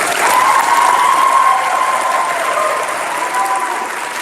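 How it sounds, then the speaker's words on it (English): Audience applause at a conference closing ceremony, dense sustained clapping from a large crowd, loud and steady, with a faint tone running through it. "enough clapping's no longer in order"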